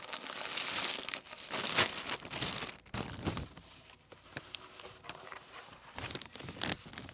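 Paper and plastic crinkle and rustle in bursts as a 17 by 17 inch canvas painting is slipped into an inner sleeve and wrapped in brown paper, close and uneven with short pauses.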